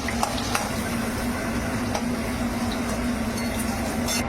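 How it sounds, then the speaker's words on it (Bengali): Pointed gourd (potol) fries in hot oil, a soft continuous sizzle with a faint steady hum underneath and a few light clinks of a utensil against the pan. "এবার পটলগুলো ভেজে নেব"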